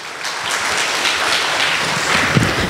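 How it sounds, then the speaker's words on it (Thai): An audience at a stroke-care training session at a Siriraj hospital stroke centre claps for an incoming presenter, producing a steady, dense wash of applause that holds at an even level for the whole stretch with no voices over it. "ขอเสียงปรบมือให้กับคุณกรุณาชูกิจค่ะ"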